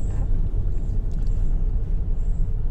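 Car traffic in Istanbul, heard from inside a taxi as a continuous low engine and road rumble with faint higher noises, steady and without voices.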